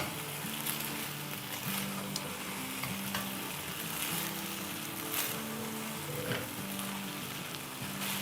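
Fried peanuts sizzle steadily in a wok for kung pao chicken, a continuous close crackle with soft stirring and a faint background hum, no talking.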